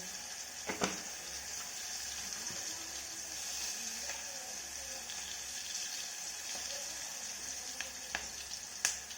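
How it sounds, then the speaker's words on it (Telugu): Cabbage frying in a pan, a continuous bright sizzle with a few sharp clicks and scrapes, close and steady with no talk. "క్యాబేజీ ఫ్రై చేస్తున్నాం సైడ్."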